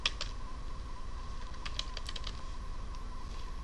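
Computer keyboard typing while entering HTML code, a short quick burst of close, crisp keystrokes over a constant electrical hum.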